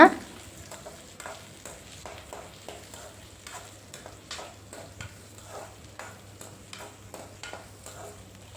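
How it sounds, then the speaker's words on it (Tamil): Onions and curry leaves sautéing in a pan for chicken chinthamani, a soft steady sizzle broken by regular scraping stirs from a spoon, close and fairly quiet, no talking. "நல்லா ஒரு நிமிஷத்துக்கு நல்லா வதக்கி விட்டுடலாங்க."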